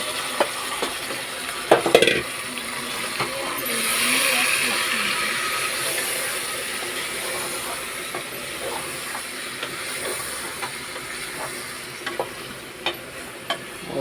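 Ginger garlic paste fries in hot oil with mutton pieces, a steady close hiss and sizzle with a swell of steam, punctuated by the clatter and scrape of stirring.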